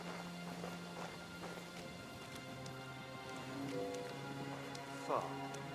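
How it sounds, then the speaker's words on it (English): Horses in the medieval game Kingdom Come: Deliverance II, hooves clopping softly under steady rain patter, with a low droning music bed and a brief louder knock near the end. "The horses are here."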